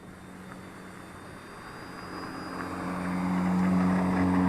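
Eachine E129 4-channel 6-axis gyro RC helicopter spooling up its motor and rotor, a steady buzzing whir that rises in pitch and grows louder over a few seconds.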